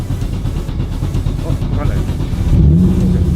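An R35 GT-R engine in a Hiace van, heard from inside the cabin on a night drive through Tokyo as a low, steady rumble that swells toward the end, with people talking over it.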